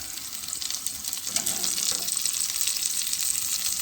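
A krill patty sizzles and fries steadily in a pan, a continuous close crackle with occasional louder spits and a faint nudge of the patty partway through.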